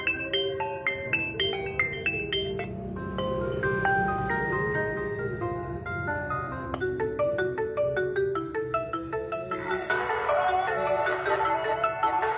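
The default ringtone of a Xiaomi Redmi 8A Pro smartphone plays alone through its speaker, a bright electronic melody with stepped tones repeating steadily at close range and fairly loud, with no voices.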